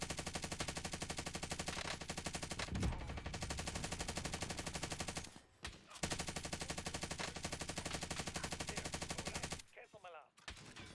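Rapid automatic gunfire from a video game shooter rattles almost continuously, loud and dense, broken by two brief pauses before the bursts resume.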